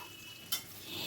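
Elephant foot yam frying in a pan is stirred, with a soft constant sizzle broken by one sharp scrape of the spatula partway through, and no voices.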